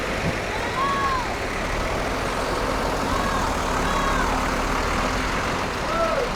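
A large MPM intercity bus maneuvers at Kampung Rambutan bus terminal, a steady diesel rumble with brief hiss-like tones over busy terminal noise, while people talk nearby.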